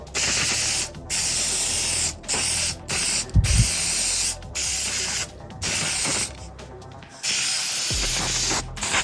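3M Super 77 multi-purpose spray adhesive hisses from an aerosol can onto a car seat cushion in about eight sharp, loud bursts, each separated by a brief silent pause.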